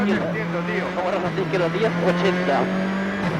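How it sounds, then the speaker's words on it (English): Citroen WRC rally car at the 2002 ADAC Rallye Deutschland, heard from on board as a steady engine drone with shifting revs while a voice talks over it throughout. "On board again with Jesus Perras in the 3rd Citroen."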